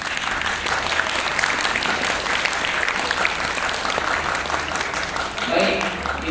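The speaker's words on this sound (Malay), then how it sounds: "Berikan tepukan" An audience of students at a school Quran session claps together, a steady, close patter of applause with voices talking underneath and a slight swell near the end.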